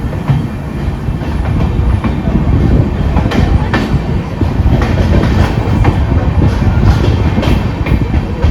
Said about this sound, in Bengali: ট্রেন এখন ছেড়ে বেড়াচ্ছে রানাঘাট জংশন